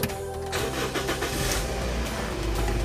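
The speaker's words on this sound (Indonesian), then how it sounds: "Coba kita nyalakan mesinnya." A Toyota Limo Gen 2, a former taxi, starts up close by. A brief crank catches within half a second, and the engine settles into a loud, steady idle.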